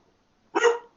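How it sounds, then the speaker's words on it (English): A neighbor's dog gives one short, fairly loud bark that stands alone against a silent background. "Neighbor's dog is fucking barking."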